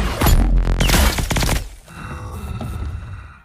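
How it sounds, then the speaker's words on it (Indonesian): Futuristic weapon fire erupts in a loud, dense volley of blasts and crashing impacts in a sci-fi film, then fades to a lower mechanical rumble and scattered noise. "tiba-tiba Harun menembakkan sesuatu ke arah Howell"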